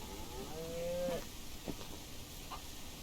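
A cow lowing in the farming game Ranch Simulator: one long drawn-out moo, then a couple of shorter, fainter grunts, heard alone at moderate level.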